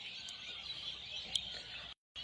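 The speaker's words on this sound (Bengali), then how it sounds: "পাখিদের আওয়াজ আপনারা শুনতেছেন কিনা বা কতটুকু স্পষ্ট হচ্ছে?" Faint, continuous twittering of birds with a couple of sharper chirps poking out, then a brief silence before the calls return.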